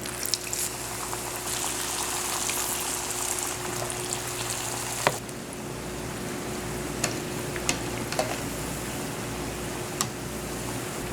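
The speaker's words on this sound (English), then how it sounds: "just put it into the pan with the oil" Steady hiss of hot oil as kachori dough fritters fry, with occasional sharp pops and crackles, a continuous close frying sound with no voices.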